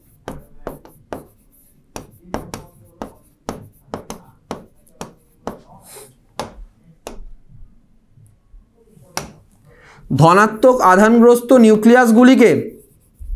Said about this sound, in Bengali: তো তাও আমি এখানে লিখে দিচ্ছি